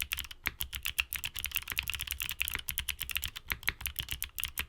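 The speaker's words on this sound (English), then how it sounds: "the Gateron Melodic switches" Rapid, steady typing on a mechanical keyboard with Gateron Melodic clicky switches, each keystroke a crisp, close click in a quick continuous rhythm, with no talking.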